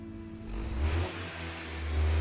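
A small Honda 1.0-litre turbocharged inline-three engine revs up, its deep drone rising and swelling, steady and close, with no talking.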